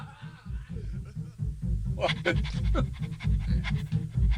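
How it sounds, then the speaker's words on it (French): Rapid, rhythmic dog panting carries on close and steady, with quick breathy huffs and a few small whimpering noises mixed in. "C'est un chien."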